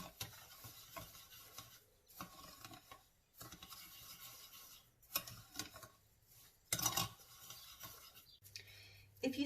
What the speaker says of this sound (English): And now I'm going to mix it all together with a spoon.